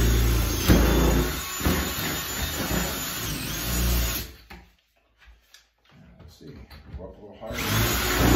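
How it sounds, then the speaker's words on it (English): A power drill with a bit grinds into the keyway of a deadbolt lock, chewing up the pins in loud whirring bursts, then goes quiet for a moment with faint rattles before the drilling starts again. "you get your drill with your drill bit, and we're gonna go right in the keyway and try to chew up those pins the best we can"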